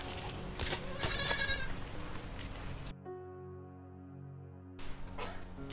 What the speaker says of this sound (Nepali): बाख्रा भोगाइसक्यो भनेको सुनिनस्